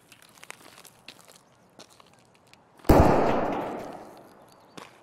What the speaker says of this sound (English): So it sounds like potentially an SKS. Someone with an SKS.